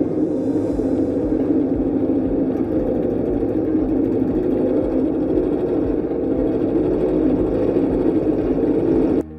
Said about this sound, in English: We just need to push the button over here, which is the green button, and the production starts.